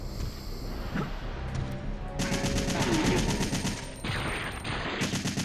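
Sustained rapid gunfire from a weapon in Resident Evil 3, dense bursts that thicken and grow louder partway through, then drop back slightly, with faint background game sounds.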